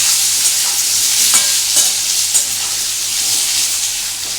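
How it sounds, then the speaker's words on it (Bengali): Potatoes fry in a pan for a badam aloo dum dish, giving a steady loud sizzle with soft scraping as they are stirred. "এই আলুগুলো এখন ভালো করে আমি ভাজবো"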